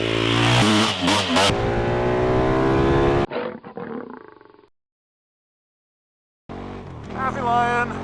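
A KTM 1290 Super Duke R motorcycle engine roars up through rising revs, loud and close, then fades out into silence before another surge returns.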